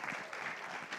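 A short, faint burst of applause from a small group at an indoor chili cook-off.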